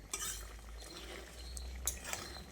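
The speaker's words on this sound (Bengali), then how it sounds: "পকোড়াগুলো দিয়ে ঝোলের সঙ্গে খুব ভালো করে নেড়ে চেড়ে মিশিয়ে নিতে হবে" A spoon scrapes and clinks against a pan while fried pakoras are turned into curry gravy, soft irregular knocks over a low background hum.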